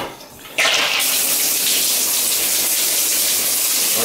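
A shower turned on for the first time after a Price Pfister cartridge replacement: a short quiet moment, then cold water bursts out and keeps up a steady, loud hissing spray that fills the rest of the clip.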